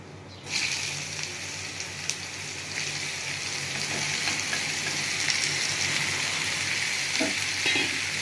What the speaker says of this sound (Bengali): এবার আমি ধুঁদুলটা দিয়ে দেবো।